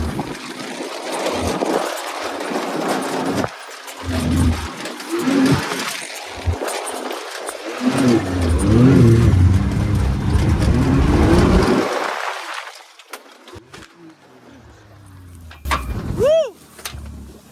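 Can-Am X3 off-road vehicle driven in two-wheel drive, its engine droning and surging loudly for about twelve seconds with rough bumps, then dropping away to quiet, with a brief whine later.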